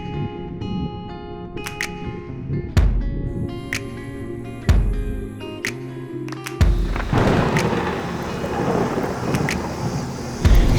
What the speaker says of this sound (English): We got hit with a gnarly thunderstorm.